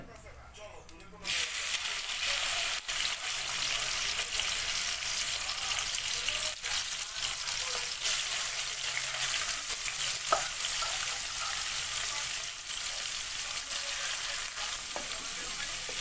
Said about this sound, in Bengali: গাইজ অয়েল দেওয়া হয়ে গেছে কড়াতে এবার করলা দেওয়া হবে ওতে করলা দিয়ে যাচ্ছে